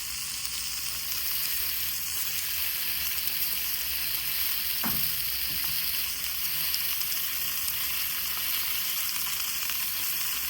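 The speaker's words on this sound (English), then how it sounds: "I'm not going to be going for a heavy saute on these onions and peppers" Onions and peppers sauté on a flat-top griddle with a continuous, even sizzle throughout and one brief scrape of a utensil partway through.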